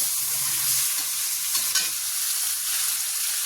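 Meat frying in the oil it has released, stirred in the pan: a steady, bright sizzle fills the clip, with one brief scrape of the stirring utensil near the middle.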